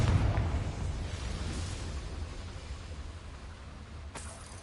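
A Confringo blasting spell goes off in Hogwarts Legacy: a low, rumbling boom at the start that decays into a long, dull roar, with a sharp crack near the end.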